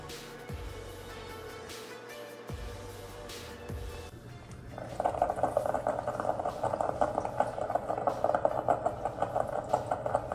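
A Ninja 10-cup coffee maker brews into its carafe. A few clicks and a low hum give way to a steady, close bubbling and gurgling as hot water drips through.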